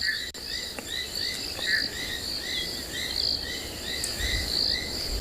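A dense outdoor chorus of southern foam-nest frogs and sand frogs calling at night, repeated rising chirps and clicks overlapping steadily above a soft background hiss.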